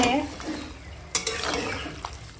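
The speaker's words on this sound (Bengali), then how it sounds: "একটু উপদেশ করে ভালো করে মিশিয়ে দিই।" Shrimp and bottle gourd greens stirred with a mustard, poppy seed and green chili paste in a pan, a steady close scraping and gentle sizzle with a couple of sharper utensil knocks.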